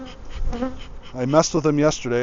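Honey bees buzz around an opened hive during beekeeping in Wisconsin, a close, busy hum sitting under a man's speech.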